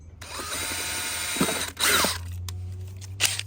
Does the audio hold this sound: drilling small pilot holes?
yes